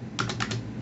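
Several quick keystrokes on a computer keyboard while entering data into real estate maintenance software, the clicks close and distinct in two short clusters, with no talking.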